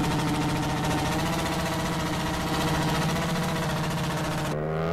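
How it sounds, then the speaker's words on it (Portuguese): BMW R1200 motorcycle with no exhaust in GTA San Andreas, blaring a loud, steady, raspy engine drone nonstop for the whole stretch, its pitch shifting briefly at the very end. "Dar aquela barulhada sem escapamento."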